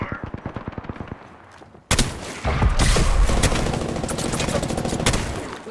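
Gunfire in the video game Apex Legends: a rapid string of single shots, a brief pause, then loud sustained automatic fire and overlapping bursts, close and dominant.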